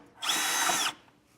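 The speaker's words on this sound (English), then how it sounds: "So I'm going to enlarge that just enough so we can pop in our filter." A power drill enlarges a small hole in a metal hat channel on a vehicle, producing a single loud, close, steady whine that runs under a second and then stops.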